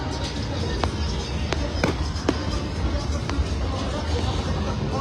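Sharp cracks and bangs of fireworks pop at intervals over a constant noisy outdoor crowd hum during the Shakrain festival in Old Dhaka.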